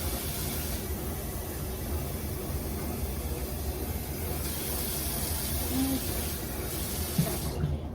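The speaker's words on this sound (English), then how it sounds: "now we're gonna fill it up with water" Tap water runs steadily into a cooking pot being filled for Spanish rice, a continuous close hiss and splash that holds at an even level before cutting off near the end.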